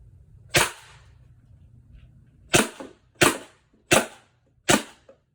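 Pepperball Lifelite launcher firing Byrna kinetic projectiles on CO2, five sharp, close pops spaced about a second apart after a faint low hum.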